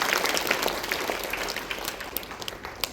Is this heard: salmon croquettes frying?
no